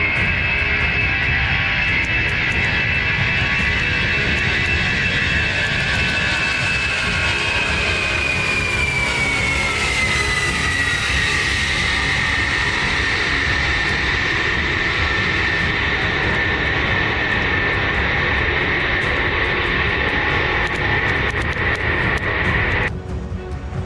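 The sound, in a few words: Lockheed C-5M Super Galaxy military transport aircraft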